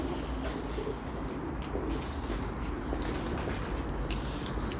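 Several pigeons coo softly and continuously in a loft or rooftop setting, beneath a steady background hum with faint chirps over it.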